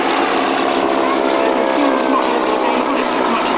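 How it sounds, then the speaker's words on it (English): An Antonov single-engine biplane flies over an airshow crowd, its propeller engine a steady, loud broadband drone that holds even throughout, with faint talk underneath. "just flying over there now is the Antonov, the world's largest single-engine biplanes"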